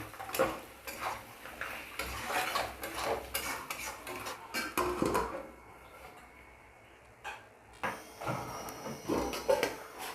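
A spoon scrapes and clinks against a pan while a rakti mixture of goat blood sausage is stirred, giving repeated irregular scraping strokes with a brief quieter pause midway and faint sizzling underneath.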